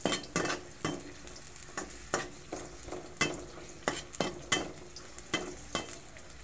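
Garlic and onion sautéing in a pan for a ground pork dish, a soft steady sizzle broken by regular scraping strokes of a spatula against the pan, close and fairly quiet, with no talking.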